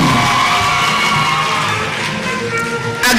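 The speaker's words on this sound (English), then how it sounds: "Applause for him." Convocation ceremony crowd applauding and cheering, a steady broad roar of clapping and voices throughout, swelling briefly near the end.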